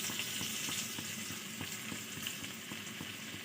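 Chopped garlic fries in hot melted butter, a dense, even sizzle with faint rhythmic stirring taps underneath, heard up close and with no one talking.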